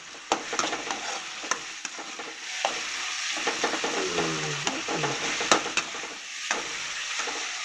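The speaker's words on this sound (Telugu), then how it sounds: "చూడు ఎంత బాగా టమాటా బాగా వేగింది కదా" Tomatoes fry in a pan, sizzling loudly up close while a utensil stirs and scrapes in irregular taps and clacks.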